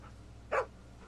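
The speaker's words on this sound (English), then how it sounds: "It is a dog!" A dog in The Walking Dead video game gives a single short bark, clear and fairly close, over a low quiet background hum.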